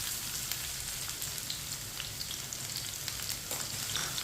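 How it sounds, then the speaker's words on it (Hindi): Finely chopped onions going into hot oil with cumin seeds for mash daal, a steady close crackling sizzle that holds for the whole stretch with small pops throughout. "2 बारीक कटे हुए प्याज डालेंगे।"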